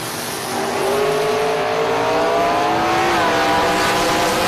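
A drag race engine roars at full throttle, loud and close, as the Gary's Auto Sales dragster meets a Chevrolet Corvette Stingray; the rising pitch holds steady and shifts once near the end.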